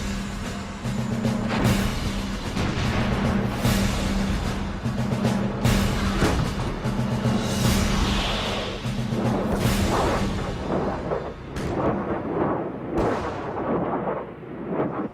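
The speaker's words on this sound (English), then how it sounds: "One of their key weapons was the multiple launch rocket system." A multiple launch rocket system fires an artillery barrage in the 1991 Gulf War, producing a dense, continuous roar of rumbling blasts and bursts with a repeating low droning tone beneath it. The sound is loud and sustained, then thins out near the end.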